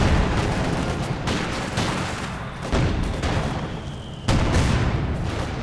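Gunfire and the booms of a field gun in the wartime strategy game Company of Heroes 2, with dense crackling shots and three sharp heavy blasts spaced a second or so apart.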